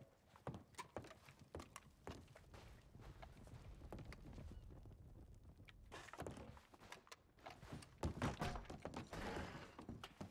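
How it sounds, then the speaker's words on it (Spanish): Many horse hooves in a video game clip-clop in a busy, overlapping patter with occasional thuds, fairly faint and irregular, as a group of horses moves along. "Escucho caballos y muchos."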